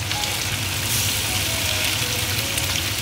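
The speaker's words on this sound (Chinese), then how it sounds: "豆腐下锅" Tofu dropped into hot oil in a pan and broken into small pieces fries with a dense, even crackling sizzle, close and steady throughout with no voices.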